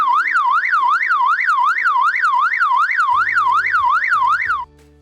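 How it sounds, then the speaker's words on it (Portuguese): Default anomaly alarm from fiscal recorder software: a loud electronic warbling tone sweeping up and down in a steady rapid cycle, about a dozen swoops, stopping abruptly near the end. "Já agora o que vem por defeito tem este som."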